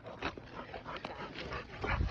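Dogs whimper and yip in short bursts while playing, with scuffling noises in between, fairly quiet and close.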